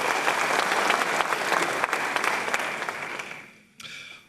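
Audience applause at an honorific lecture in Ghana, a dense sustained round of clapping from a crowd that holds steady for several seconds, then fades out toward the end.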